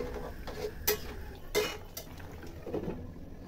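Tengra fish and cauliflower stirred in a metal pan, a spoon scraping and clanking against the pan in several separate strokes, close and fairly loud.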